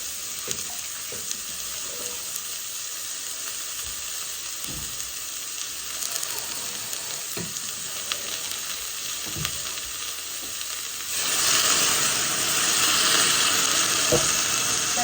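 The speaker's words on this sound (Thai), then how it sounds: "ผัดไก่ก็" Steady sizzling and hissing of chicken stir-frying in a pan on an electric stove, with occasional scraping knocks of stirring; the sizzle swells louder near the end.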